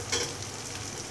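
Chicken wings fry and sizzle in a pan with coriander powder and turmeric while being stirred, a close, continuous hissing crackle.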